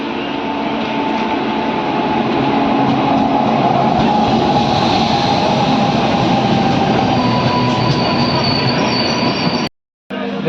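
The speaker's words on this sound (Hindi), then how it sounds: "वैसे अभी हमारा साइमल्टेनियस डिपार्चर हो चुका है।" The Madgaon Hapa Express runs on the Konkan Railway in the rain, with a loud, steady rumble of wheels on rails and a sustained metallic squeal from up close, cutting off abruptly near the end.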